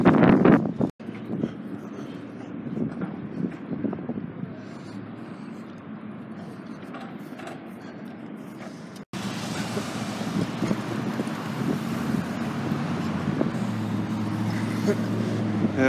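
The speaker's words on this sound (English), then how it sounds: "Chilly, very windy." Strong, chilly wind in Albuquerque, New Mexico roars and buffets steadily right against the microphone, a continuous rough rumble with gusts that swell louder toward the end.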